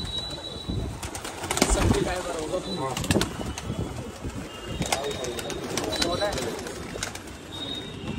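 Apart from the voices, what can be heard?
Pakistani Kale Katle pigeons cooing and flapping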